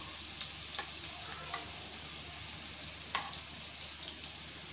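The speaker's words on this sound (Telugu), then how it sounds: "ఇప్పుడు ఇందులో ఉల్లిపాయలు వేసుకుందామండి. గోల్డ్ కలర్ వచ్చే వరకు వేసుకోవాలి." Onions frying in a pan until golden give a faint, steady sizzle with a few sharp pops and crackles rising above it, heard alone.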